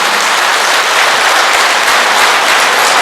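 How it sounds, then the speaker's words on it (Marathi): A large audience applauding loudly and continuously for a kidney donor at a public event, a dense, even wash of clapping with no voices over it. "पत्नी ह्या डोनरसाठी अशाच जोरात टाळ्या वाजवा"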